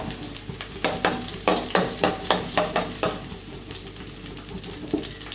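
Chopped garlic fries in ghee and coconut oil while a utensil stirs it in about nine quick, regular scraping strokes. A steady sizzle continues underneath and lingers after the stirring stops.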